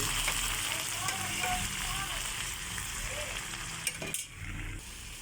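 Chili and other ingredients for monggo sautéing in a pan, a loud continuous sizzle and crackle up close with occasional spoon clatter, and a brief sharp knock near the end.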